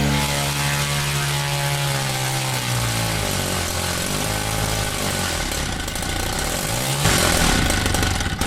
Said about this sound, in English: I fixed it, and the engine started singing.